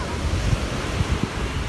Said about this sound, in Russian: Волны, конечно, огромные.